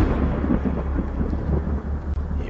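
Thunder from a very close lightning strike rumbles loud and deep, a heavy continuous roll with a faint rain hiss underneath, close and alone without voices.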